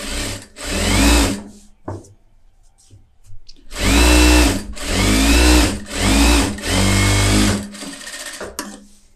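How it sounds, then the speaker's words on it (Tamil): A sewing machine runs edge stitching along a blouse lining in loud, sustained whirring bursts, one long run, a pause, then several back-to-back runs that trail off into a quieter hum. "கரெக்டாக ஓரத்தில் எஜ்ஜு தையல் போட்டுறேன்."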